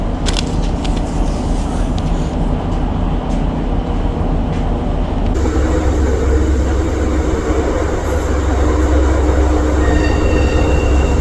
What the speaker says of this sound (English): And so the train squeaked and rattled on